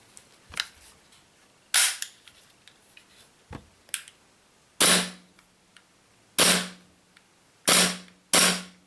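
WE G17 Gen 5 gas blowback airsoft pistol dry-fired on green gas, giving sharp, loud snapping cycles of the slide: a few lighter clicks early on, then five hard, evenly spaced cracks close to the microphone.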